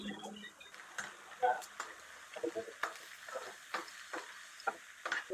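Onions fry in oil in a pan for tempering a mutton curry, with faint soft sizzling broken by repeated clicks and scrapes of stirring, spread irregularly through the stretch at low volume.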